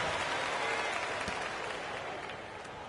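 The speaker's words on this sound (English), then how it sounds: "Greg, it certainly got everybody on their bench up and off their seats and cheering" A virtual arena crowd in NBA 2K16 roars and applauds after a dunk during a Knicks basketball game, a sustained wash of cheering that holds steady before ending abruptly.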